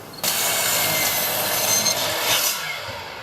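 A saw cuts through a cedar board being trimmed to length, a loud, close, continuous rasping whine that holds steady for about three seconds and then eases off.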